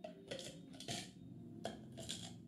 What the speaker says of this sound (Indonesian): dalam cup atau gelas masukkan es batu